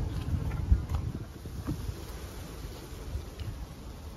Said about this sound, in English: trust me, there's a ton of bees in there.